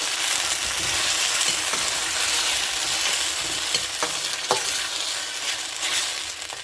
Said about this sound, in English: 1 can of chopped canned tomatoes, and you have to saute this